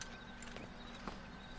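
Horse hooves clip-clop in the Red Dead Redemption video game, a steady quiet walking rhythm over a constant low background hum, with one brief louder knock near the middle.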